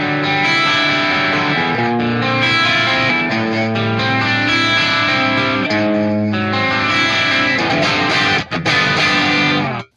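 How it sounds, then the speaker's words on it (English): Electric guitar run through a flanger from a Tascam Model 24 mixer's built-in effects, giving a loud, sustained, sweeping, whooshing tone across the chords with no talking. "Here's a flanger."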